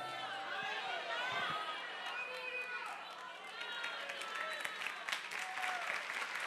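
Church congregation applauding during a sermon, a dense, distant patter of clapping mixed with crowd murmur and faint voices.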